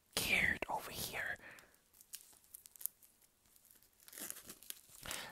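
Hand tearing and crinkling the packaging of a K-pop unboxing parcel, close and crisp in a few quick rips and rustles, with soft whispered talk between the bursts.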